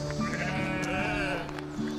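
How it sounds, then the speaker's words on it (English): Sheep and lambs bleat loudly and close by, several overlapping cries filling the whole moment. "I've never heard such noisy sheep."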